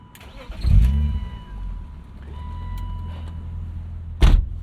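A 1999 BMW Z3 M Roadster engine cranks and catches with a loud burst, then settles into a steady idle, with a door thud near the end.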